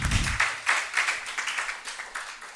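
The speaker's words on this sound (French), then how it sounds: "Ça mérite quand même des applaudissements pour" A small group claps for a few seconds, sparse and uneven hand claps at moderate distance, fading slightly toward the end.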